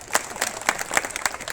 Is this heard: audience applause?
yes